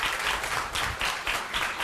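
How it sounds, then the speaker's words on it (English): Brief burst of audience applause at a borough council meeting in Fair Lawn, with steady clapping in a few pulsing swells, moderately loud. "So if we could just please have a round of applause for Jerry in the back."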